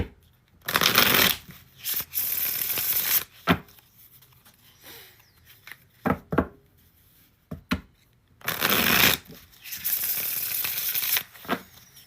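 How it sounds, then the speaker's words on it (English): Tarot cards are shuffled in several long riffling bursts with quiet pauses and a few soft taps between them, close and clear, no voices. "We got one more shuffle for Mua."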